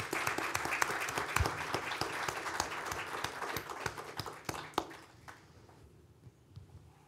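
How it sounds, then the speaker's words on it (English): Sustained applause from a lecture audience welcoming a speaker at a talk on the American war in Afghanistan, dense clapping that thins and fades out over the last couple of seconds. "join me in giving a very, very warm round of applause to Judith Gelber"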